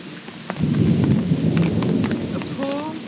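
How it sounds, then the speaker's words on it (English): Heavy rain pours steadily on surfaces while a low thunder rumble rolls underneath, with a brief bird-like chirp near the end. "Okay, I'm doing a video of the crazy rain."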